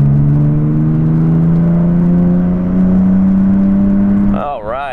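A car engine revs up after a kick-down into fourth gear on a night drive near a neighborhood, a loud sustained tonal drone that climbs gradually in pitch, then a brief warbling shift at the end.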